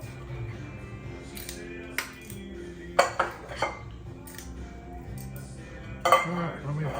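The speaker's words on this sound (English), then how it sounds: "you're dumping this stuff in your pan like that" Meatloaf mixture for turkey meatloaf minis with onions dumped into a cast iron pan, giving a few clanking, clinking knocks of utensil against cookware, with soft background sound between the hits.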